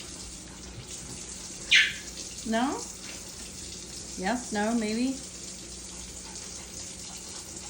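Tap water runs steadily for a pet bird while its cage is cleaned at home, a soft continuous flow under a woman's speech and a few bird chirps.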